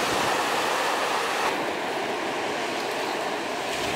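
Waves break and wash continuously at Praia da Grama, Brazil's first artificial wave pool, a steady broad rush of surf with no talking.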